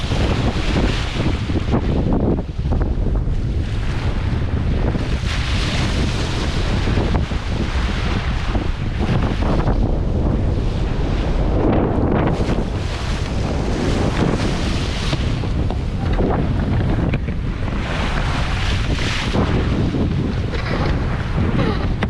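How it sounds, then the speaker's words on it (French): Strong wind gusts roar across the microphone aboard a sailboat at sea, with water and waves rushing steadily underneath for the whole stretch, loud and close. "J'ai cru que le vent se levait, j'ai un peu paniqué."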